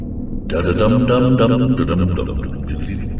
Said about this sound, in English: The second piece of why audio would be Foxy's singing, which sounds like this